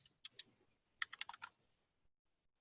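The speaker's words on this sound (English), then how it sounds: "Are you typing?" Quick bursts of keystrokes on a computer keyboard during an online meeting, a short cluster of taps followed by a denser run of clicks, then quiet; faint and close to the microphone.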